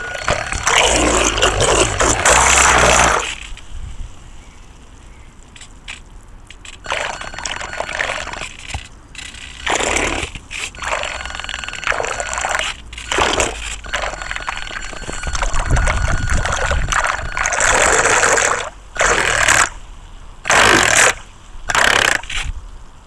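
An RC toy boat's new small motor buzzes in bursts as the boat runs in a paddling pool, with water splashing and sloshing. The bursts start and stop repeatedly and come through loud and close.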